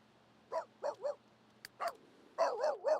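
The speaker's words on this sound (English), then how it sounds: "Hey, what you barking for?" Dog barking in The Sims 3 video game: a few short, sharp barks and yips in quick clusters with brief gaps, fairly close and clear, no talking.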